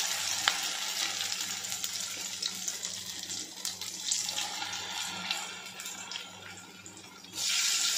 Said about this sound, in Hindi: इसके अंदर वन बाय वन आप अपने आलूओं को कोट करते जाइए और तेल में डालते जाइए